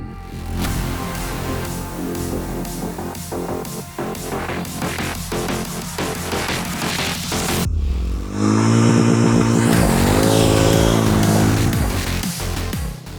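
A Harley-Davidson X440 motorcycle clatters at first, then its engine note swells loud and rises as it revs and pulls away, strong and close with no voices.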